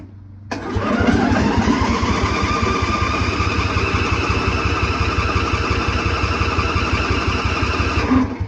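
A Briggs & Stratton Intek 21 HP engine cranks steadily on its electric starter for about eight seconds, a close, loud, rhythmic chugging that never catches, then stops abruptly.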